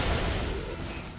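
A dense, rumbling blast from an explosion in the Beach Buggy Racing 2 racing game fills a brief moment, a broadband burst that is fairly faint overall and heard without talk.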